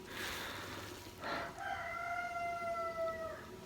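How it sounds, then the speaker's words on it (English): A rooster crows once, a clear drawn-out call following some rustling and clucking, heard fairly close with no talking. "Roger's not going to listen to anybody, Roger the Rooster"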